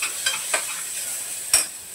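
A masala paste for chole is sautéed in a pan, with a soft sizzle under about four quick stirring scrapes of a spoon, the last one the loudest.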